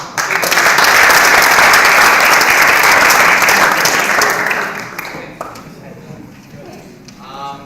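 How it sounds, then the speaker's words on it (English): Loud, dense applause from a debate audience for the participants, sustained for several seconds before fading, after which a voice speaks briefly. "Actually, the biggest clap should go for you guys."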